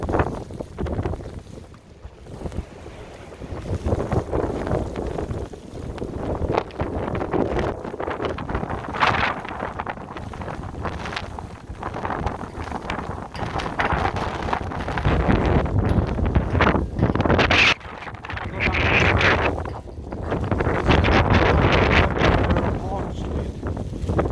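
Strong gusty wind from a nighttime snowstorm in Chicago roars and buffets the microphone continuously, surging and easing, with a voice speaking intermittently underneath.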